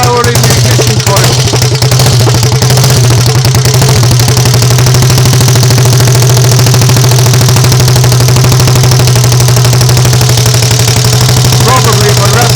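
Triumph Tiger Cub motorcycle engine running steadily at idle under test for its alternator, a loud continuous thrum with a strong low hum.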